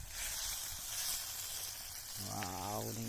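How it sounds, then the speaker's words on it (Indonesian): Sardines are tipped into a pot of boiling broth over a rural Indonesian cooking fire, giving a steady loud hiss and bubbling that swells into a brief burst of churning liquid near the end. "sudah mendidih. Masukkan sardennya."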